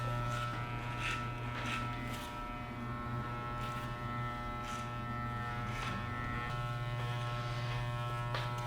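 Electric hair clippers with a 16 mm guard cut hair during a taper fade, a steady close buzzing hum with periodic crisp snipping bursts as the blades pass through hair, with no talk.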